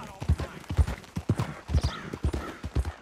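Horse hooves clip-clop in a steady trotting rhythm in the video game Red Dead Redemption 2, close and distinct, each beat a crisp double knock over a faint ambient background.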